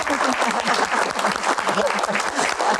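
An audience at an evening Q&A event applauds loudly and steadily, a dense continuous wash of clapping from a crowd close by, lasting a few seconds without pause.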